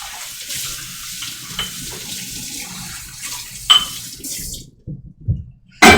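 Hot soapy water runs from a tap into a sink in a steady hiss that stops partway, followed by a few clinks and splashes from handling items in the water.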